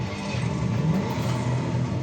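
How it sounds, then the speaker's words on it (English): A car revs in the arcade driving game California Speed, a steady electronic engine roar with slight rises in pitch, loud and alone with no talking. "California Speed, the fastest driving game ever."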